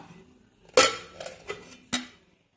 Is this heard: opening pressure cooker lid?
yes